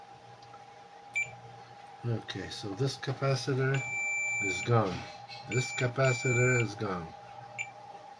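Continuity beeps from a multimeter set to beep mode while probing a burned Gigabyte Aero 5 XE4 laptop motherboard with a shorted capacitor, several short high tones sounding intermittently beneath someone talking close by.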